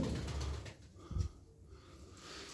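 Arab tumbler pigeons in a loft coo softly, a faint low murmuring with a brief throaty swell, close by and quiet.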